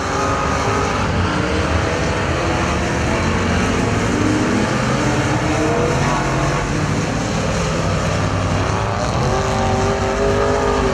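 Race cars roar around a figure 8 track at Perris Auto Speedway during the main event, engines droning loudly and continuously with rising and falling revs as cars pass, no talk over them.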